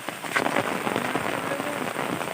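Rain pours down in a village, a dense, steady patter of drops hitting surfaces nearby with no voices.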